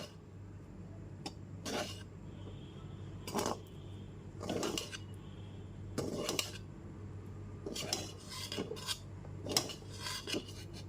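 A spoon stirs semolina in a pan over a low gas flame while making halwa. About eight separate, quiet scraping and clinking strokes come at an uneven rhythm over a faint steady hum.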